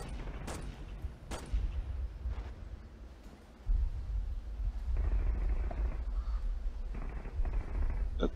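Machine-gun fire in the Flash war game Warfare 1944, sharp distant cracks early on, then sustained rattling volleys and rumbling battlefield din that swell louder midway.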